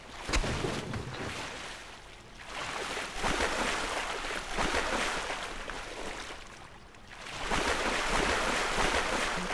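Wading into water in Black Mesa, a steady wash of splashing and sloshing that swells and fades in long surges, loud and close with no talk over it.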